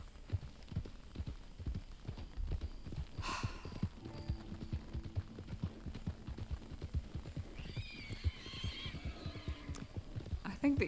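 Horse hooves clip-clop at a steady walking pace in the video game Red Dead Redemption II, moderately close under faint ambient game sound, with a brief whinny-like tone and some low background hum.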